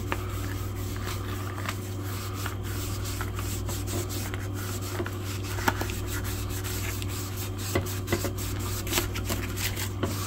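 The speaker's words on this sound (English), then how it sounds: "we'll do a briskly rub it down with the soft cloth after." A soft cloth briskly rubbing a leather knife handle, steady scuffing strokes close up over a constant low hum, with no talking.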